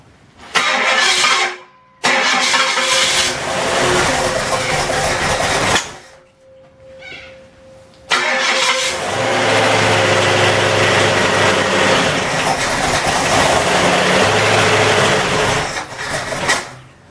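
Junkyard V8 engine cranking and catching, a loud sputtering start, a brief quiet gap, then a rough, steady run near the listener.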